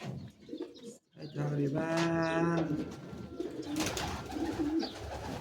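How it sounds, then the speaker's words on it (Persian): Pigeons being released, with a clear cooing bird call rising over rustling and background noise, while a person speaks briefly nearby. "میخوایم کبوترها رو رها بکنیم ببینیم چند تا ثبت میشه"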